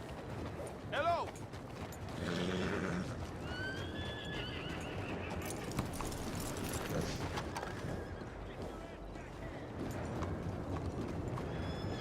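Horse hooves clop steadily on hard ground while a horse whinnies early on, with Red Dead Redemption 2 game ambience and murmured talk underneath.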